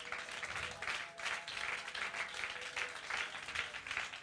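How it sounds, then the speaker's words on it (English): A church congregation claps hands steadily during a worship service. The claps are loud and rhythmic, forming a continuous wash that sounds distant and fairly faint. "clap your hands one more time"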